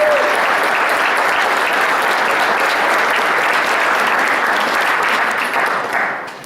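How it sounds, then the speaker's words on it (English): An audience applauds music teachers at an appreciation evening held in a music store, a dense, steady clapping from a full room that carries on for several seconds before tapering off at the end. "Again, a round of applause."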